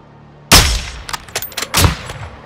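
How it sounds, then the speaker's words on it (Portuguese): Gunfire in Call of Duty: Modern Warfare II: a loud, sharp single shot rings out, then a rapid scatter of quieter cracks and a second heavy report, close and punchy with short decaying tails. "Tiro limpo. Nossa mira tá afiada."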